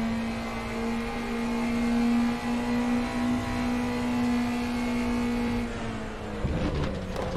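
A race car engine in the RaceRoom Racing Experience sim racing game holds a steady high whining drone, then drops off and rumbles as the car slows near the end, with no speech.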